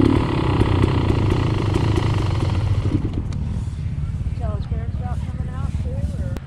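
A Beta 300 two-stroke dirt bike at a hare scramble race in Kansas, suffering running issues, its engine idling roughly with a rapid uneven putter that fades and falters midway, while voices talk nearby.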